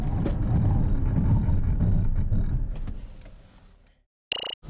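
2021 Mercedes-Benz GLB 250 4MATIC in a hard braking test, with loud road and tire roar fading steadily as the SUV slows to a stop, then near silence and a short high electronic tone.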